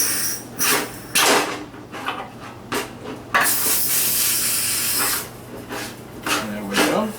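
Gas hose being connected to a 1 lb Coleman propane tank for a Primus Firehole 100 stove, with several bursts of broadband hiss and handling noises, close and fairly loud, and no talking.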